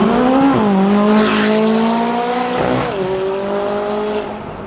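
McLaren 570S sports car with a twin-turbocharged 3.8-liter V8 producing 562 horsepower, heard loud and close as a steady engine drone with rising and falling revs and gear changes, no voices over it.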